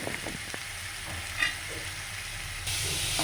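Chopped capsicum frying with softened onion in a pan for a paneer curry, a steady low sizzle with a few stirring scrapes and one brief louder clink, no voices.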